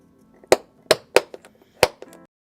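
A center punch is struck into a Sprinter van floor to mark starter holes before drilling. Four or five sharp metallic taps come at uneven intervals, close and clear, with no talking.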